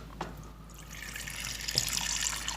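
Water runs steadily from an LG refrigerator's ice maker supply line under low pressure, a continuous hiss that swells and brightens after the first second with faint drips near the start, close by and alone.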